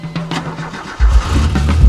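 A four-cylinder car engine cranks briefly and then catches, settling into a loud, rumbling idle close to the microphone.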